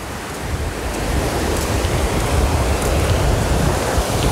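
Sea surf at Campas beach in Tamandaré, a steady broadband wash of waves rolling in continuously and fairly loud, with no voices over it.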